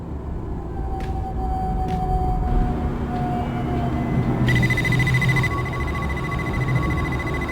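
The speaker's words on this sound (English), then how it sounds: "If I reprogram the timer, I can make the alarm go off almost immediately." A pizza oven timer alarm in the Dreamfall game rings out as a steady electronic beeping tone, loud and continuous for several seconds, with a brief brighter burst midway over a low background hum.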